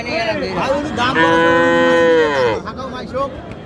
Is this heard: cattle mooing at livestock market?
yes